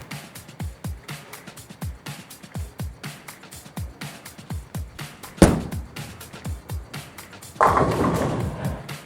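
A Primal Rage Evolution bowling ball rolls down a tournament-style lane, with a sharp thud midway, then a loud, crashing burst of pins toward the end over a steady patter of background thumps.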